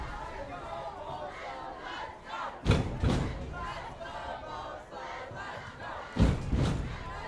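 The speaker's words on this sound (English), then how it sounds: "The Matador crowd here trying to implore this defense, trying to make as much noise as they can" Home crowd at a Thursday night high school varsity football game making noise from the stands, a steady roar of voices with two sharp bursts of thumping and shouting, carried under ongoing chatter.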